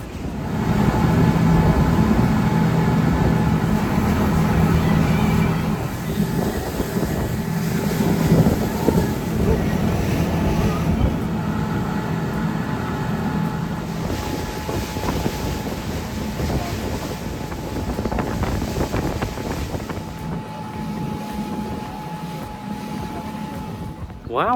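A Caribbean excursion tour boat cruises with a steady engine drone and strong wind buffeting the microphone, while voices talk intermittently over the noise.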